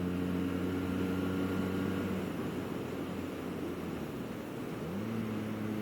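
A Benelli 302S motorcycle engine pulls up through the revs, a steady harmonic drone that holds, dips, then rises again as throttle is applied, heard close with constant wind-like noise.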